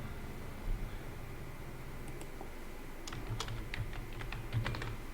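Keys clack on a computer keyboard during an MS Excel lesson, with light scattered taps early on and a quicker run of crisp keystrokes in the second half, close and fairly quiet.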